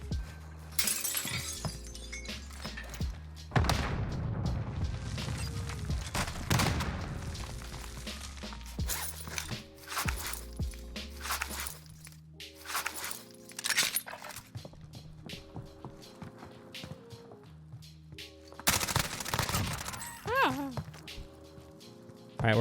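Grau 5.56 assault rifle fire in the Warzone game, heard as a few sharp bursts of shots spread across a busy stretch of in-game sounds, with a person talking in between.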